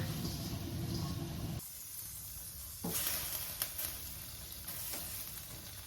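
Thai noodles for a shredded-chicken noodle dish blanch in a pot of boiling water, giving a steady bubbling hiss that drops away briefly and then returns, with faint clinks near the pot.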